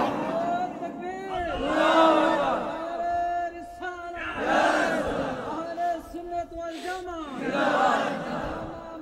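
A large rally crowd roars slogans in unison at a religious gathering in support of Palestine, loud repeated swelling chants in waves about every three seconds, with shouting voices throughout.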